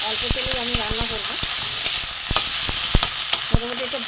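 Pumpkin, potato and Malabar spinach greens stir-frying in a little oil for a Bengali chorchori, loud close sizzling with repeated spatula clacks and scrapes against the pan, no voices.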